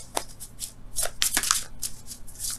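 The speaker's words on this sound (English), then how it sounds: "Let me get another card for that." Tarot cards being shuffled and drawn by hand, a series of quick papery riffles and flicks at close range, with no talking over them.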